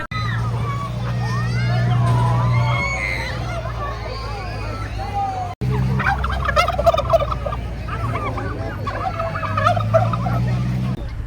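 Birds at a water park bird-activity area gobble and squawk loudly at close range, with a crowd babbling in the background and a person talking.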